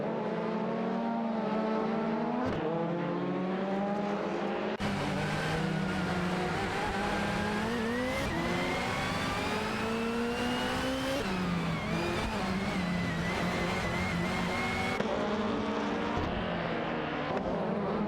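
Racing engines from an AI-driven racing video game, including a Ford Sierra Sapphire and a BMW 318i, whine steadily and rise and fall in pitch as gears shift. Several cars overlap in a continuous loud roar.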